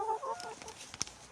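Soft clucking of chickens close by, a few short bursts against quiet background noise.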